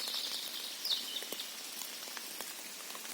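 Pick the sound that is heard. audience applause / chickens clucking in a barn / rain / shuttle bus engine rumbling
rain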